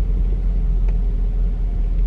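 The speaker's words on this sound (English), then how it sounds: "Car feels like it's about to cut off." Car engine rumbling low and steady from inside the cabin on a drizzly evening drive, a dull continuous drone that sounds close to cutting off, with no speech.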